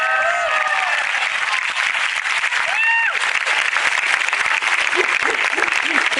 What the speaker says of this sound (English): Let's give a big hand of applause for the class of